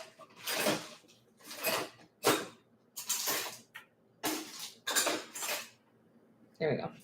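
Metal cutlery rattling and clinking as someone rummages through a kitchen drawer for a spoon, about seven separate bursts of jangling silverware, close and clear with short pauses between them.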